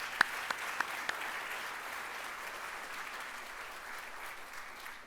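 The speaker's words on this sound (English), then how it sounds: "Let's give them another round of applause." A crowd applauds at the 2018 ISSF opening ceremony, a sustained wash of clapping with a few sharp, louder individual claps standing out near the start before it settles into an even roar.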